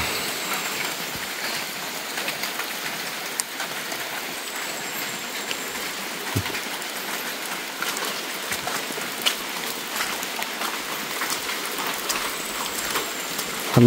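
Steady rain falls outdoors in a continuous even hiss, with scattered sharper drops tapping nearby surfaces.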